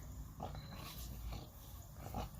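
A pet dog growls and snorts in short, close bursts through a low, steady rumble of background noise in a home garage where an offroad bumper is being built for a lifted Honda CR-V.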